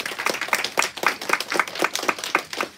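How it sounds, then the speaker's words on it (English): A seminar audience claps in unison, a clear, rhythmic beat of sharp hand claps repeating about every quarter second at moderate volume, with no talking. "Let's give them a round of applause."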